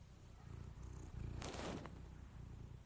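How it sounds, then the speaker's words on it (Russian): A cat purrs close up in a steady, soft, rhythmic rumble, with a brief rustle partway through and no talking. "Хватит мурчать уже так. Слышите это мурчать или нет?"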